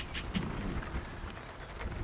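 Rain falls outdoors on a croft farm, a steady patter and hiss of drops with soft low rumbles and some wind, fairly quiet and continuous, with no voices.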